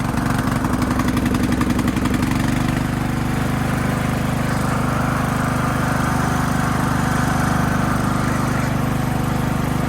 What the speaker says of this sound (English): Got the engine smoothed out.